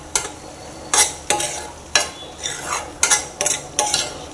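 Tomato with salt and garam masala frying in oil for a soybean masala curry, stirred in a pan with a series of loud spatula scrapes and knocks over a soft sizzle, close up, no talking.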